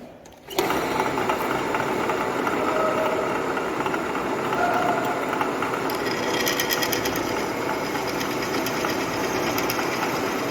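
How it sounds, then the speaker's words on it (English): Drilling machine running as it enlarges a hole in a V-fit gauge workpiece, starting abruptly then holding a steady loud mechanical whir with rattling, grinding texture throughout. "Now we enlarge this hole."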